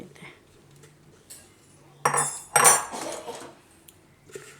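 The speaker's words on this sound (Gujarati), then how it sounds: "તો એને આપણે આ જ્યુસરની જારમાં લઈ લેવું" Cut, peeled fruit pieces tumble and clatter into a juicer jar in a home kitchen, two short bursts of clinking contact over a quiet background, close by.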